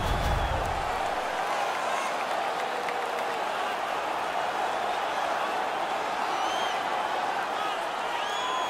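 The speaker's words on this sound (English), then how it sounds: "The crowd is ecstatic." A virtual arena crowd roars and cheers after a fight in an NHL hockey video game between the Islanders and Lightning, a dense, sustained wash of noise with no breaks and no commentary over it.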